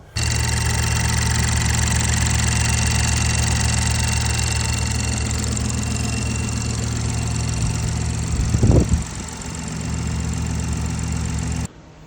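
A BMW i8 engine idles steadily and smoothly with no rattle after exhaust-side parts were replaced, a constant close hum with one brief thump near the end before it cuts off.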